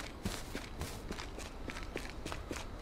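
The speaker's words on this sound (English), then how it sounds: "heard footsteps, but I guess that's just a deer" Footsteps in the survival video game H1Z1, a run of soft, quick steps, about ten evenly paced, faint and close, with no talk over them.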